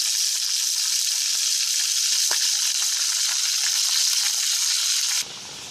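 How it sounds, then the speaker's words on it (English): Bulgur cooking down in a pot with seasonings gives a steady, loud broadband sizzle and bubbling hiss that runs without a break, then drops off abruptly near the end. "This Bulga is cooking down very good."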